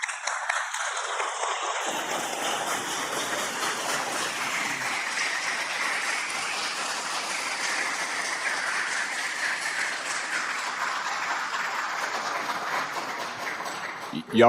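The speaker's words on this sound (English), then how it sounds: "Y'all quit clapping." Sustained audience applause at a congressional subcommittee hearing on UAPs, a dense steady wash of clapping that fills the room for about fourteen seconds at an even level.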